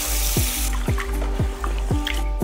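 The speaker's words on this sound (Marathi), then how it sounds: "तांदूळ 2-3 पाण्याने स्वच्छ धुवून घेतलेले आहेत।" Rice rinses in water in a basin under a running tap, with regular rhythmic sloshes and pours about every half second over a continuous water rush, close and fairly loud.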